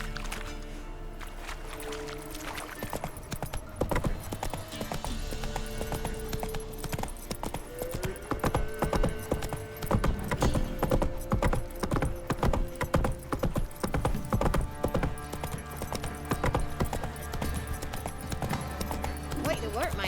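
Hooves of Roach, Geralt's horse in the video game The Witcher 3: Wild Hunt, clatter in a steady galloping rhythm beneath continuous game music and ambience, with voices talking over it.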